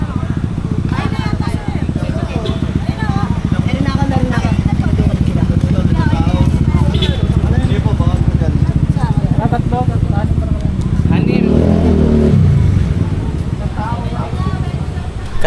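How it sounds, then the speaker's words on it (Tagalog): Many motorcycles idle and rev in a busy crowd near Majayjay falls, a continuous close engine clatter with a louder rev swell late on, under ongoing chatter. "Ayan guys, tinan nyo naman kung gaano karaming motor ngayon."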